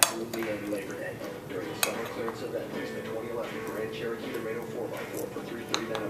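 A toddler scrapes and clinks a metal spoon against a bowl in repeated light, irregular taps. An adult keeps talking over the sounds.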